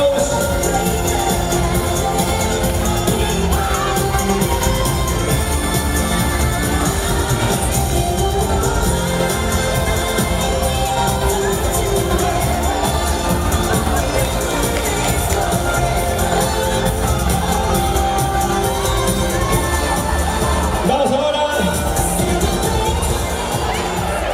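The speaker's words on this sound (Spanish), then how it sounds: "Aplauso para Cuarto B." A loud crowd cheers and shouts continuously at a carnival celebration, with whoops and a dense roar of voices filling the whole stretch, sounding like a packed hall celebrating.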